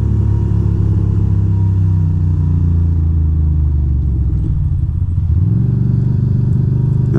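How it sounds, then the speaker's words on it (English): A motorcycle being ridden through New York City streets, its engine rumbling steadily and close throughout, dipping briefly then picking up again with rising revs, with no talking. "The bike feels good."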